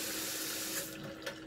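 Water runs steadily from a household tap into a sink, a continuous broadband hiss that stays close and fairly loud before easing slightly near the end, with no voices.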